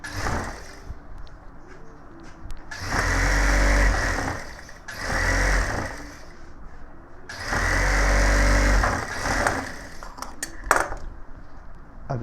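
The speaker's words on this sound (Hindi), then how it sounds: "तो अब इसको हम ऊपर के साइड से सिलाई करेंगे।" An electric sewing machine stitches the sleeve of a gents' suit in three sustained whirring runs, separated by short pauses with light handling noises.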